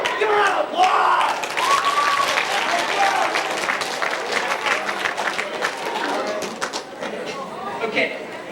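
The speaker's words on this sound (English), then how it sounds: "Give her a round of applause!" Loud audience applause and cheering from a crowd at a school assembly, with whoops and shouting voices over dense clapping that gradually tapers off.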